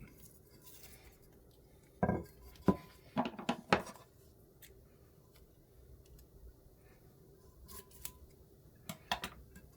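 Scissors cutting a creased section out of sublimation paper, a quick burst of several sharp close snips followed by quieter paper handling and a couple more faint cuts near the end, with no talk.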